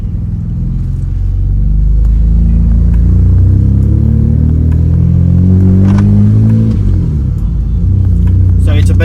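A Mercedes-Benz W203 engine runs close by while warming up from cold, a loud, low, steady rumble whose pitch wavers and rises slightly through the middle, with a person speaking over it.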